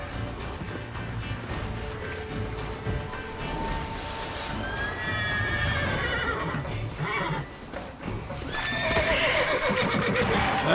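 A horse in The Witcher 3 video game whinnies loudly several times amid clip-clopping hooves and combat clutter, the neighs rising in the second half.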